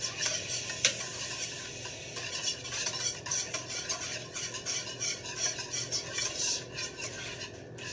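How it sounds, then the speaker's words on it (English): Eggs for cornbread batter are beaten with a whisk in a bowl, a steady fast scratching and clicking that runs for several seconds, close and fairly quiet, with no one speaking over it. "Beat the egg up."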